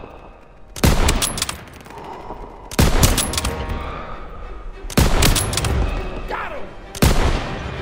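Heavy World War II-era gunfire rings out in Call of Duty: WWII, four loud booming volleys spaced about two seconds apart, each with rattling echoes, while a voice shouts briefly between shots.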